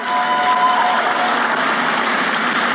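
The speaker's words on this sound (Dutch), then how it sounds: "Nou, geef hem een applaus. Stefan Ol, met zijn 21 jaar." A congress audience in a hall applauds steadily, a thick, even wash of many hands clapping at close range for a few seconds, with a faint tone running briefly through it.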